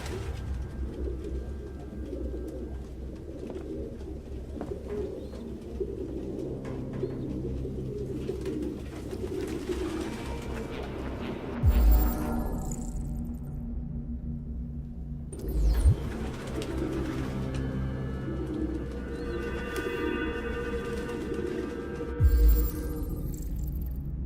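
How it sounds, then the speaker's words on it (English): Pigeons coo in the game Detroit: Become Human, with repeated soft, throaty calls over an ongoing ambient bed and a few low thumps. "No human could live with all these fucking pigeons."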